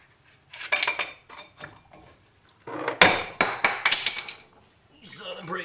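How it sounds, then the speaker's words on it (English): A metal tool pries at the brake parts of a 1999 Jeep WJ during a Teves to Akebono brake swap, giving irregular metallic clanks, scrapes and knocks in short bursts, with one sharp strike and a few quiet pauses. "Let's see if we can pry on this now."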